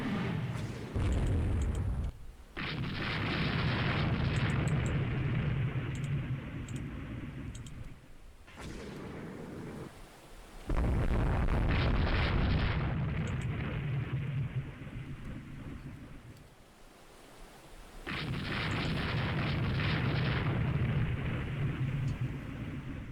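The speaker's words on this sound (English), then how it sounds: "I want you to shoot at that target" Naval gunfire from warships in the strategy game Rule the Waves 2: several long, heavy booming salvos rumble and roll on for seconds each, separated by short quiet gaps, with no talk over them.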